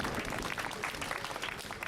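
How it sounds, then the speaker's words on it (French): An audience cheers a cycling champion at the Tour de la Manche 2014 awards ceremony at the finish in Granville, a steady wash of clapping from a crowd, moderately loud and continuous. "les chers amis publics connaisseurs qui applaudissent ce champion"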